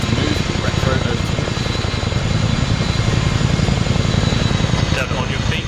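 Steady, loud helicopter rotor and engine drone in the video game ArmA 3, filling the scene, with radio-style voices talking over it throughout.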